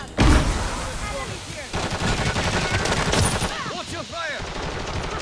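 Gunfire in Call of Duty Modern Warfare 3: loud rapid automatic bursts and shots crackle almost nonstop, mixed with in-game voices calling out over the battle.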